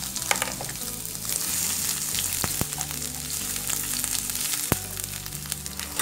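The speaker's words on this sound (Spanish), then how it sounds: "Empezamos por calentar aceite para sofreír el ajo y la cebolla." Garlic and onion frying in hot oil in a pot, a close, even sizzle with crackles and a few utensil knocks, no voices.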